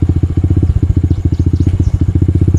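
Close, loud motorcycle engine idling roughly with water in the carburetor, a fast, even chain of thudding firing pulses that holds steady for the whole stretch.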